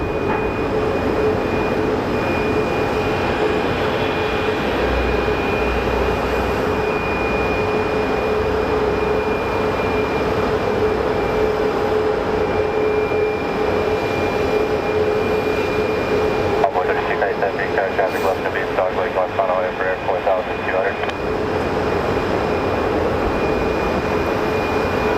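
A SkyWest jet, flight 4889 bound for Reno, takes off at Phoenix Sky Harbor Airport, giving a steady, loud engine roar with high whining tones throughout and faint voices underneath.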